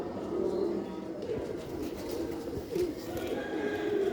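Domestic pigeons cooing steadily at close range, soft repeated low coos running continuously over a faint background with no clear talk.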